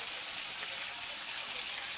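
A continuous, even hiss of fish frying in oil, bright and steady for the whole moment with no talking.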